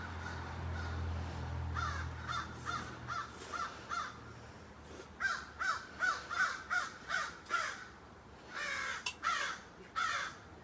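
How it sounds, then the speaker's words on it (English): A crow caws repeatedly outdoors, first in scattered calls and then in a quick run of harsh, evenly spaced caws, fairly close and with no one talking. "I think the bird hungry too."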